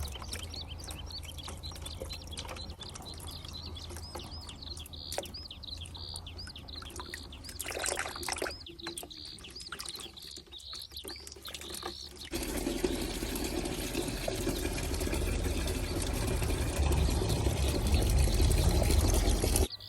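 Tap water runs and pours over a diseased, rotting orchid being rinsed at a sink, a steady splashing wash that grows louder and denser in the second half, with no talking.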